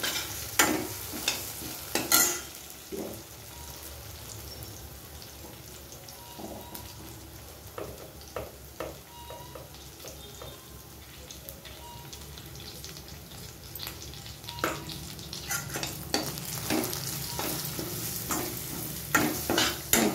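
Chili powder frying with softened tomatoes in a pan gives a low, faint sizzle under irregular scraping and stirring clinks, with occasional louder knocks of a utensil against the pan; no voices.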